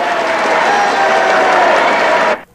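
Ovation at the State Department for Gilles Mathieu, acting head of the Canadian embassy in Washington: a loud, sustained burst of crowd applause with light cheering that cuts off abruptly at the end.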